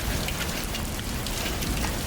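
Steady heavy rain pours on a surface as a storm sound effect, a dense continuous hiss with low rumbling underneath, with no voices over it.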